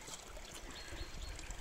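Water runs steadily from a drinking fountain, the Fuente de Mingo in Valle de la Barranca, giving a continuous close splashing trickle with no voices over it.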